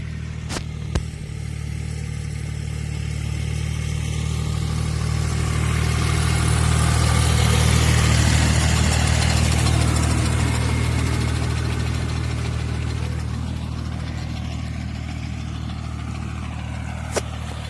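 A steady tractor engine drones throughout in an orchard, a low constant hum that swells slightly in the middle and then holds, with no talking.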